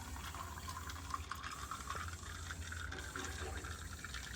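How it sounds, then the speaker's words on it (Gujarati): Cold water from the fridge pours into a glass holding a thick drink mixture, a soft steady splashing stream that lasts several seconds at close range, quiet and unbroken. "હવે ઠંડુ પાણી ઉમેરું છું."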